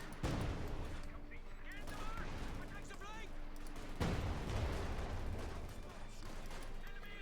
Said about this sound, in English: Panther shooting at the conscripts